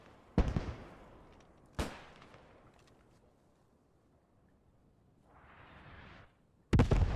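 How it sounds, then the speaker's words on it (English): German artillery shells slam into a church in a multiplayer war game: three sharp, booming blasts spaced a few seconds apart, each with a rumbling tail, plus a brief faint whoosh between the last two. "That's artillery. I'm going to assume that's German artillery on the church."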